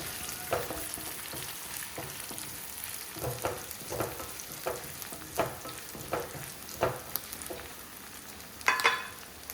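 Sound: sautéing fresh curry leaves in a pan, frying and stirring

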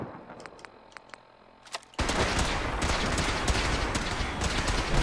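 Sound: minigun firing in the video game Fallout 4

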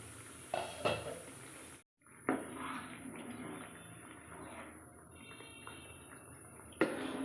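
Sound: pot lid lifted to check boiling corn and tomato soup

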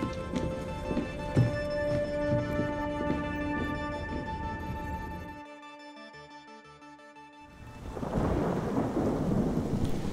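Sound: thunderstorm in Black Ops 6 Zombies cutscene, video game

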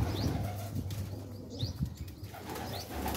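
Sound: pigeons flapping wings

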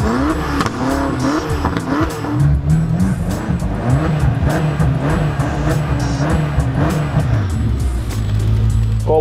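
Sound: car engine on Nemunas Ring race track

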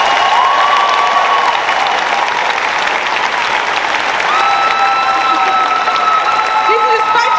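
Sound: audience applause for Cass and Riley

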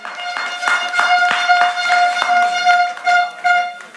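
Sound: audience clapping at a speech

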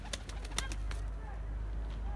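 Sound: young pet birds returning to the aviary

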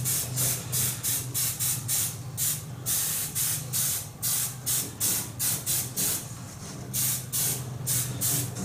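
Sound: spray painting the last coat of blood red

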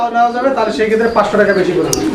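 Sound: pigeons cooing

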